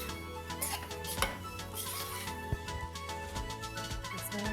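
A spoon scrapes and clinks in a pan as ghee and jaggery are stirred together for sukhadi, giving a soft continuous rustle broken by a couple of sharper metallic knocks, quiet and close.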